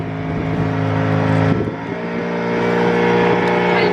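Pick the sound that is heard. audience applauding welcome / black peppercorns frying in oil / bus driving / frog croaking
bus driving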